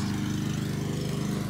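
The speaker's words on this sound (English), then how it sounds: "Back here mowing the lawn." Lawn mower engine running steadily in a backyard, a loud, constant drone heard close up with no voices over it.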